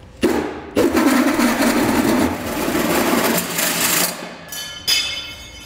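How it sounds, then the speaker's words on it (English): A powered hole saw cuts through a 2016 GMC Sierra 2500 truck bed for a Curt gooseneck hitch, giving a loud, close grinding whine in several bursts with brief pauses between them. "we'll use the hole saw as indicated in the instructions to make our hole for the gooseneck head to come through"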